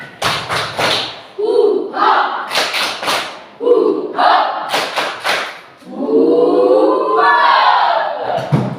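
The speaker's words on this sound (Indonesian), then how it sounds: "Coba tepuk semangat." Children perform a rhythmic spirit clap, loud clusters of claps and thumps alternating with shouted chant phrases, ending in a longer group cheer, close by.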